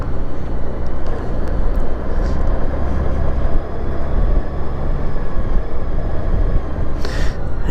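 A vehicle on a scenic rural ride passes over cattle guards. A loud, continuous rumble of rolling tyres runs throughout, and a sharper rattling burst comes near the end.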